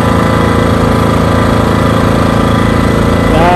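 A Hyundai HDG 2880 generator engine runs loud and close with a steady, rapid chugging rumble. Its pitch shifts slightly in the last moment.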